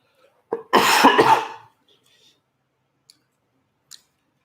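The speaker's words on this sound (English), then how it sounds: "How loud are the coughs on the live?" A person eating a salmon bowl gives a short, sharp cough burst up close, followed by a few faint clicks in otherwise quiet surroundings.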